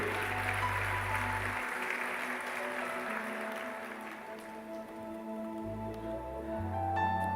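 A church congregation applauds loudly throughout, a dense wash of clapping with sustained organ or keyboard chords underneath; the clapping thins briefly midway before swelling again.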